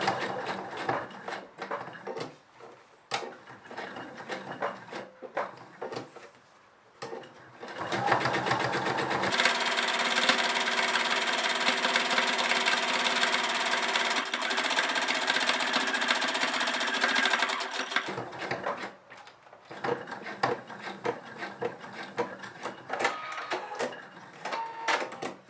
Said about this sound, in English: edge stitch along the other edge